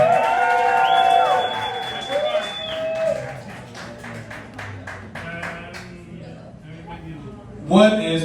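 Comedy club crowd at the Blarney Stone clapping and cheering for a comedy host, a lively roar of applause that swells early and slowly fades, with a burst near the end.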